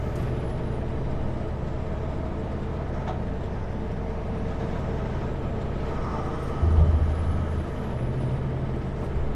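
A heavy truck grinds along a mountain pass road in early winter, its engine a steady low drone with a sharp burst of air-brake hiss near the end, heard close and continuous without talk.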